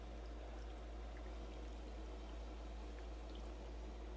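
Water pumped into an aquaponics grow bed holding goldfish at a school, a steady rushing pour that stays constant throughout, joined by a low mechanical hum.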